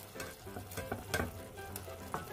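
Spaghetti bolognese sauce with fresh ingredients added is mixed in a pan over low heat, giving a soft simmering sizzle and several gentle wet stirring scrapes, quiet and close with no speech.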